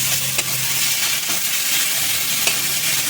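Masala paste of chilli, garlic and ginger with Kashmiri chilli powder, salt and turmeric fries in a pan for an egg curry, giving a steady close sizzle with a few soft stirring scrapes, no talk.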